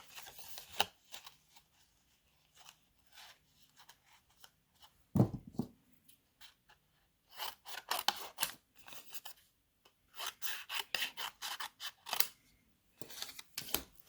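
Scissors cut through a sheet of paper in a card-making craft session, with intermittent short snips and rustles that come in clusters and are quiet and close.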